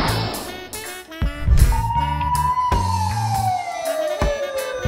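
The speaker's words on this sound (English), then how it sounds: "Fire truck." Fire truck siren with a long sweeping wail that rises and slowly falls, loud and close, over a backing of playful music.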